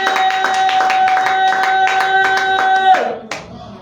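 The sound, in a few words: congregation clapping hands in church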